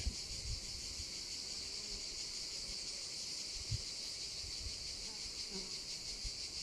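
A hive of Carniolan honey bees with a newly emerged queen gives a continuous, fairly faint droning hum, steady throughout, with scattered soft knocks and handling noises.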